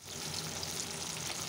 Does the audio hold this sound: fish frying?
yes